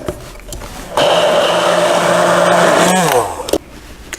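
Blender spinning raspberry coulis thinned with added juice, a loud steady whirring drone that starts abruptly, holds for about two seconds, then winds down with a falling pitch.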